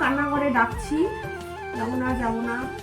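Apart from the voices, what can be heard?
No distinct noise like a dog, phone or traffic.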